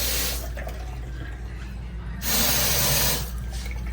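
Water runs from a bathroom faucet in a 2025 CrossRoads Hampton 395BAM camper, a steady hiss from the tap that swells louder in bursts near the start and end, heard close with no speech.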